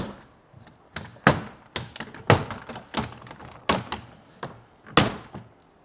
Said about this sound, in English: So we got to get our apron off, pop up our clips.